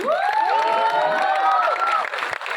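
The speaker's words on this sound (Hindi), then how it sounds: "सो इस टीम के लिए एक बार जोरदार तालियां हो जाए।" Theater crowd at a Mumbai film trailer launch cheering, whooping and clapping for the film team, a loud continuous roar of voices and applause throughout.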